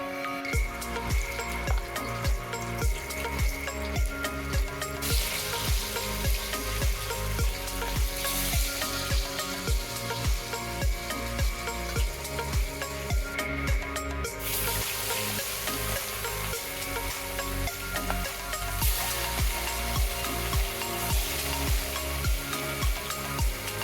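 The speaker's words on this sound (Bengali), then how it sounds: "মাছটা ততক্ষণ হোক ভাজা।" Pieces of rohu fish frying in hot oil in a home kitchen, giving a loud, continuous close sizzle with rhythmic stirring and scraping throughout and no talk.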